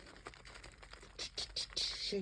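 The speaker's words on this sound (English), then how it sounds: "This is just Glimmer Mist, Tattered Angels Glimmer Mist. Rustic green. I'm just giving it a shake." A Tattered Angels Glimmer Mist spray bottle in rustic green is shaken in a series of quick, close, scratchy rattling bursts that grow denser toward the end.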